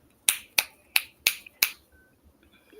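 Fingers snap five times in a quick, even rhythm, crisp and close, then silence follows.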